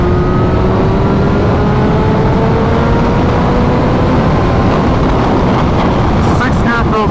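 BMW S1000RR superbike cruising in sixth gear, a loud steady engine drone with strong wind roar throughout, pitch slowly rising and falling, close to the rider.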